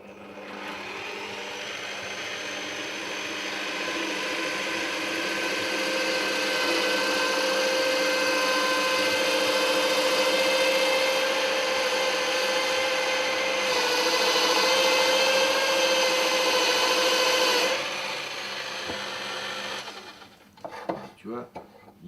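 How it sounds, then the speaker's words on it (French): A drill press boring into a small piece of wood to make a pen blank, a steady whirring grind with a humming motor tone, loud and sustained for about seventeen seconds before stopping, followed by a few knocks and handling sounds. "après je vais le mettre sur la perceuse à colonne qu'il a"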